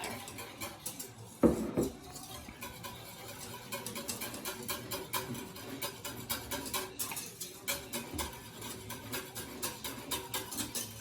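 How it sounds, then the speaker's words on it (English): Egg yolk and milk whisked together in a bowl for Belgian waffle batter, a close, steady run of quick light clinks and taps that repeats rhythmically throughout, with no talking. "And whisk all of this together."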